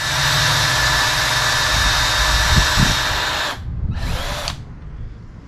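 A power drill bores a hole sized for tapping threads in a hot rod pedal part, a loud steady whine running for several seconds, then cutting off and restarting briefly with a short burst.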